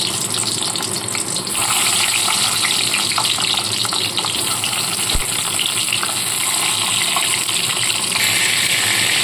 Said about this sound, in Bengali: সর্ষের তেলটা গরম করে নিয়েছি নিয়ে এর মধ্যে এক এক করে পটলগুলোকে ছেড়ে ভেজে তুলে নেব